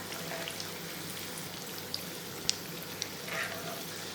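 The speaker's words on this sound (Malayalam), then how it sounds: "ഇതും നമുക്ക് തിരിച്ചും മറിച്ചും ഇട്ട് ഫ്രൈ ചെയ്തെടുക്കാം." Banana fritters, pazhampori, deep-fry in hot oil with a quiet, even bubbling hiss, a few small sharp pops and crackles scattered through it and no talking.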